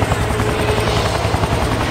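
A helicopter in the video game XIII gives off a loud, continuous rotor thump and engine buzz close by, steady and unbroken throughout.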